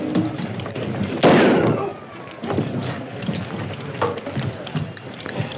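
Sharp gunshots crack in an old black-and-white 1930s western, one loud blast followed by fainter pops and echoes, with voices and crowd noise underneath.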